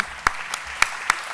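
Audience applause at the Premis Octubre 2022 awards ceremony, heard as a brief, fairly faint burst of separate sharp claps at an uneven rhythm, with no voices.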